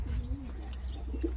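Racing pigeons at their loft, a soft low coo followed by a few quieter murmuring coos, close by with faint background hum and no talk.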